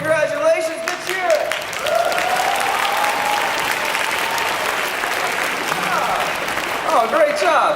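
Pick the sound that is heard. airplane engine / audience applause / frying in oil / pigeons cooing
audience applause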